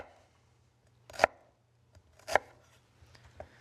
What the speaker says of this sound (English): just dice this up as well.